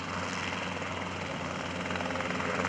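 A helicopter at an airshow drones steadily with a rhythmic rotor thump and a whining engine, sounding moderately distant and fairly constant.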